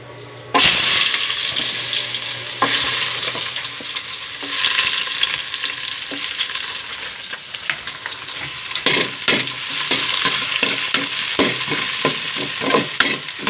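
Garlic and onions fry in hot oil on a makeshift construction-site cook setup, a steady loud sizzle running throughout, with occasional scraping stirs and clinks from about the middle onward.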